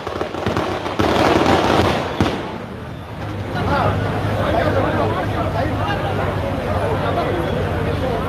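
Rapid crackling bursts of firecrackers going off on a road at a political gathering in Mambakkam, loud and dense at first, then a continuous distant rattle of explosions with a crowd murmuring underneath.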